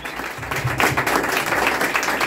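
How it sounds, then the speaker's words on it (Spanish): An audience applauds at a quinceañera mariachi performance, a dense, steady wash of many hands clapping, moderately loud and continuous, with a faint voice underneath. "Y el aplauso bien bonito, bien bueno,"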